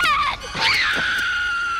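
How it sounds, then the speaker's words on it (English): A girl in an animated cartoon lets out a loud, high-pitched scream that rises sharply and then trails off into a sustained wail. "Helga's screams bring the others running"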